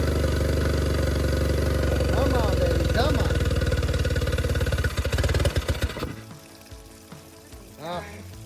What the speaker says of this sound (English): The outboard works. Bad news, barely. It's able to turn on, go into forward idle, reverse idle.